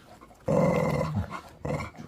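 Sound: chow chow dog growling and barking

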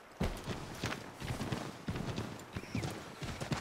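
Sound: horse hooves in video game Assassin's Creed 3

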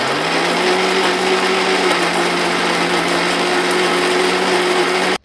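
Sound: mixer grinder grinding old mattress cotton

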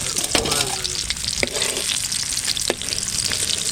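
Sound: pomfret fish frying in a pan

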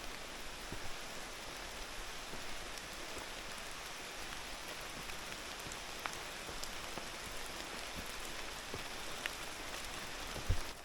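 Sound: rain falling

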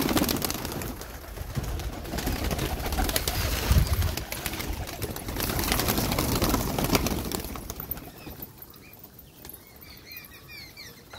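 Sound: pigeons cooing

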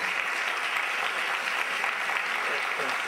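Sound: applause

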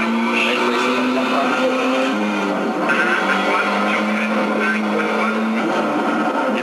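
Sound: rally car accelerating in Colin McRae Rally video game

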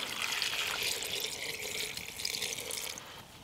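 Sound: water poured into a pot

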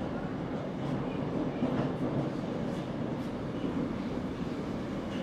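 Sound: metro train arriving at station

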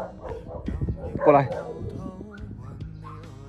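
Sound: dogs barking and whimpering

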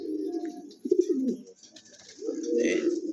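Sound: yellow Lahori pigeons cooing

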